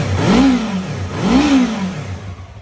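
A 2016 Yamaha R3 motorcycle engine revs twice in quick succession, each blip rising and falling smoothly, close and fairly loud with no talking.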